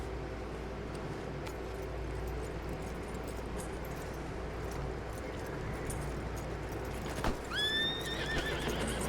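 A horse in Red Dead Redemption 2 with a steady background of game ambience and hoof movement, then a sharp rising whinny near the end.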